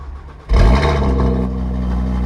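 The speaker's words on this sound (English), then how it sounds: "Cold start." A stock Audi RS car engine fires up from cold with a sharp catch, then settles into a loud, steady, rumbling idle.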